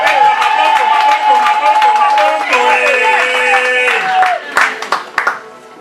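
A church congregation at a large convention acclaims the Lord, with loud sustained shouting and sung voices over clapping, then a few sharp, separate claps as the voices die away near the end.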